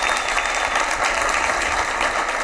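Dense, steady applause from a conference audience at the Signifyd FLOW Summit, a continuous wash of many hands clapping at even loudness throughout, close and full.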